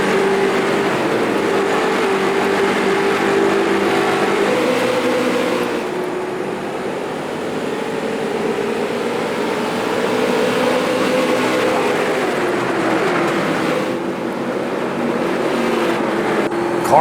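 Steady drone of a street stock race car engine at sustained speed on an oval in the iRacing video game, loud and continuous with no talk.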